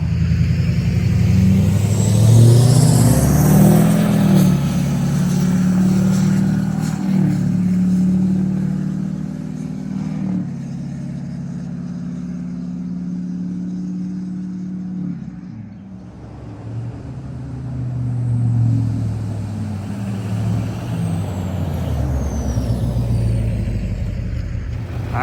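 A truck with a replaced steering stabilizer rumbles loudly across a very bumpy bridge, its engine droning while thuds and rattles rise and fall through the crossing.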